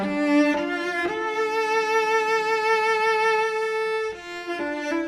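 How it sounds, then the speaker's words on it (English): Solo cello sample played close-miked and dry with no reverb, sustained bowed notes with a steady tone and a few note changes, no vibrato, alone. "we've got the solo strings using the cello"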